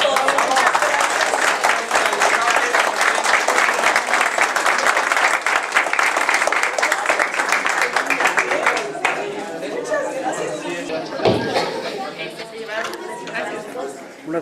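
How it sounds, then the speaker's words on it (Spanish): Audience applause fills a hall at an event on disability inclusion, a dense steady clapping with crowd chatter that thins out after about nine seconds, leaving scattered claps and murmuring voices. "Pues un aplauso a todos."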